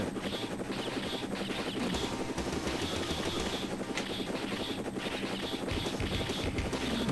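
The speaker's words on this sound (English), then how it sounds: "Here comes the helicopter again." A helicopter in a Konami arcade war game, its rotor chopping in a fast steady pulse under layered game effects and music, continuous throughout.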